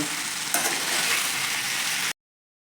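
Jaggery and sugar stirred over low heat in a pan while making amla murabba, giving a steady broadband sizzle-like hiss with a slight scrape near the start, continuous and close for about two seconds before cutting off.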